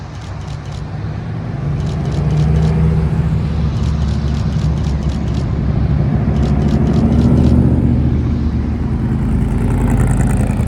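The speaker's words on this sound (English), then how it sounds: "Oh, race cars! Race cars!" Race cars driving past on a mountain road: a loud, continuous engine roar with dense low rumble that swells through the middle and peaks around seven seconds, heard close, with no talking.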